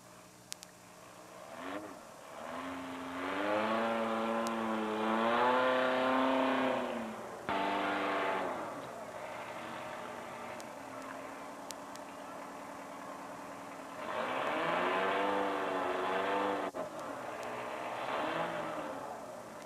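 A car engine revs while driving, with several loud rising bursts of revving separated by quieter idle-like stretches.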